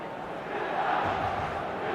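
A dense stadium crowd roars and cheers in an eFootball match, a steady, loud wash of massed voices that swells slightly midway and holds.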